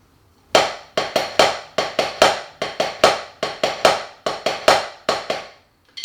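A taiko drum plays the Don Doko rudiment: a steady, loud, close run of sharp struck hits in repeating groups of three, the first hit of each group accented, with no voices.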